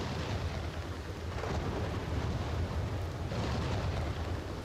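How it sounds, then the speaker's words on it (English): Thunderstorm in the video game Aloft, a loud continuous roar of heavy rain with deep rolling thunder swelling through it, close and dense with no gaps or talking. "we're gonna have a storm"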